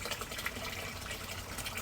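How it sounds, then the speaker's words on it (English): Water flushes through a siphon in a cascading gutter bed, a soft, steady rushing gush that runs continuously at low volume with no talk over it. "Here you can see the second siphon now start to flush, and the first siphon already stopped"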